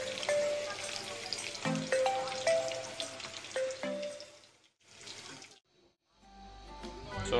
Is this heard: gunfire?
no